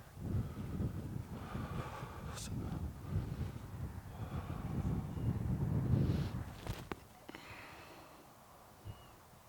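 Wind gusts across an open disc golf tournament course, buffeting the microphone as a steady low rumble that swells and fades over several seconds, with faint footsteps and rustling nearby.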